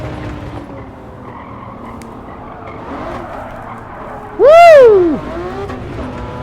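A McLaren F1 in the Gran Turismo 7 racing game, played in VR, drones steadily, then a loud engine whine sweeps up and falls away in one burst; a voice briefly exclaims.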